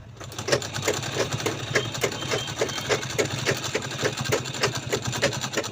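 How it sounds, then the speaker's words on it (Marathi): A sewing machine stitches fabric for a small purse, running steadily with a rapid, even needle-pounding rhythm and a low motor hum close by. "तर आधी आपण इथून वरून स्टिच करत घेऊया"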